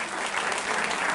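Brief burst of crowd applause at a devotional bhajan gathering, many hands clapping together in a dense, even wash.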